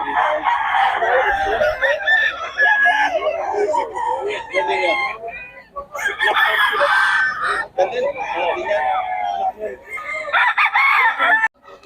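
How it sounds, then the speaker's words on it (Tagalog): Roosters on a chicken farm crow again and again, several loud, drawn-out calls overlapping close by, with short pauses between bursts and clucking mixed in. "Gaganda ng manok ni Boss Nelson yan."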